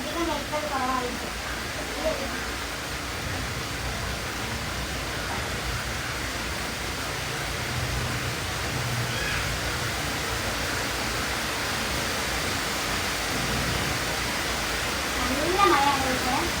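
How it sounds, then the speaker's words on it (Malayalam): Heavy rain falls in a steady, dense hiss like a broad wash of noise, constant and fairly loud throughout, with faint voices now and then beneath it. "നല്ല മഴയാണ് ഇവിടെ."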